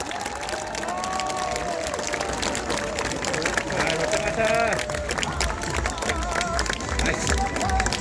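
Crowd at an outdoor election campaign rally in Jongno, Seoul, applauding and cheering steadily throughout, with loud crowd noise, amplified voices and music-like tones over the clapping.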